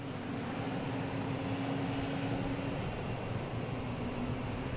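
A JetBlue airliner arriving at Boston Logan airport, heard as a steady, moderately distant jet roar with a sustained engine drone, alone and without talk.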